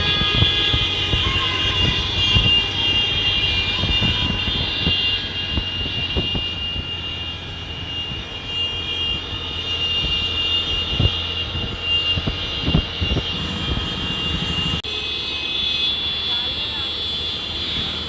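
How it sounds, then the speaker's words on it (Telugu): Motorbikes in a large political party rally through a village: a continuous engine drone with passing machines, voices mixed into the noise. "అభిమానులతో కలిసి బైక్ ర్యాలీతో తేజ చేరుకున్నారు"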